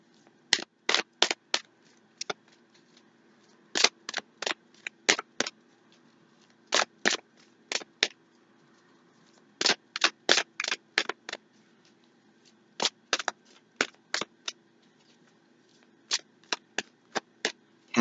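Tarot cards are shuffled in repeated bursts of sharp riffling clicks, close and distinct, coming in irregular clusters with short pauses between them.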